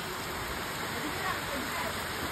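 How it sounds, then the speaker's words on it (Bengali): Heavy rain pouring down outdoors in a sudden downpour, a loud, dense, unbroken hiss that holds steady throughout with no pauses. "তুমুল জোরে বৃষ্টি এসে গেছে"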